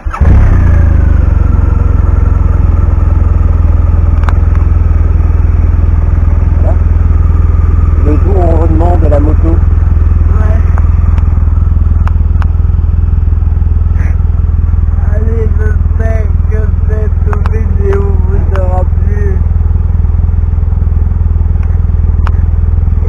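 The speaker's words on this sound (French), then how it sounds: "il va y avoir le bruit du moteur qui va s'enclencher" BMW 1200 RT motorcycle engine starting up and settling into a steady low idle rumble, close and loud throughout, with brief clattering mechanical noises on top and no speech.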